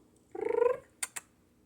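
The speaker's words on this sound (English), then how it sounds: "My cat is right behind me" A pet cat purrs in a brief, pulsing, close rumble, followed by two sharp faint clicks in an otherwise quiet room.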